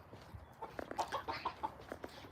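Chickens cluck softly in an enclosure at Peak Wildlife Park, a run of short, faint, distant clucks heard over outdoor background noise.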